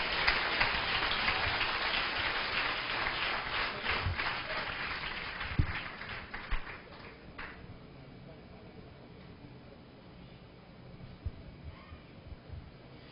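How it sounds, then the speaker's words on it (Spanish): Loud applause from a church congregation during a sermon, dense clapping that swells for several seconds and then thins into scattered claps and quiet room noise. "Mire, den un aplauso fuerte."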